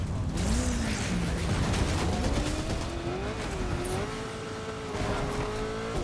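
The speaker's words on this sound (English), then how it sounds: "Get in the car and go." Car driving in Fortnite: a steady, continuous engine drone with rising and falling pitch as the vehicle accelerates, with tire noise and skidding, loud and constant throughout with no talking.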